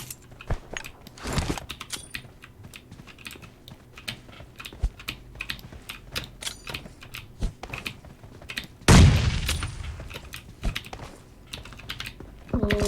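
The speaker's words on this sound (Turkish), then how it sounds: "Tamam abi bombayla bitiriyorum" A grenade blast in PUBG Mobile bursts out once, loud and sudden, over a background of rapid keyboard-like clicking and scattered game noises, then fades into a low rumbling tail.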